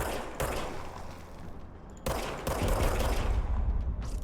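Bursts of rapid gunfire ring out in the video game Control, two loud volleys with a dull thud and some mechanical clatter between them, nearby and without talk.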